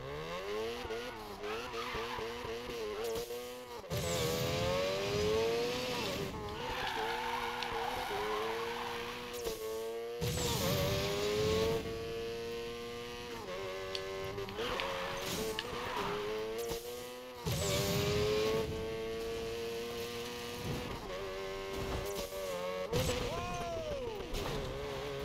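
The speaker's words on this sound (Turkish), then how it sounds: "Motor sesi sizinle." A racing car engine in Need for Speed Payback roars and revs in rising, falling sweeps as it shifts gears, with tires skidding and squealing loudly throughout.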